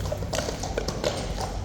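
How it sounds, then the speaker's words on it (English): Large horse's hooves clop on the ground in a quick, steady rhythm, close and fairly loud over a low background rumble. "That was a really big cloppy horse"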